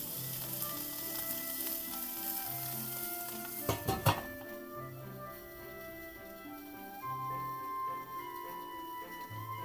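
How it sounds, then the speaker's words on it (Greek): A pork knuckle sizzles steadily in a hot pan with red Florina peppers, a continuous frying hiss with a brief clatter of handling midway. "Το τσιγαρίζουμε από την αντίθετη πλευρά."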